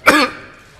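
A single harsh cough and throat clear from a man addressing parliament, close and loud, a sharp burst that fades quickly into quiet.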